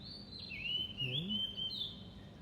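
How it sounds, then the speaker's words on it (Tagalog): Birds chirp and whistle in a few short, clear calls over a steady city hum, heard from a high-rise balcony on the 31st floor in North Pattaya. "Mga ibon."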